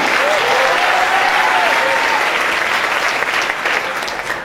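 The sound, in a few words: audience applause at a business presentation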